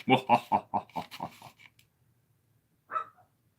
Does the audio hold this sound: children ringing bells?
no